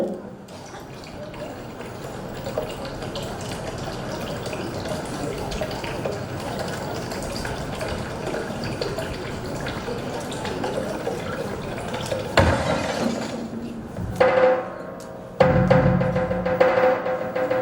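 Water poured for drinking during a stage drama, a steady splashing pour running under a noisy, roomy background for most of the stretch before shifting near the end.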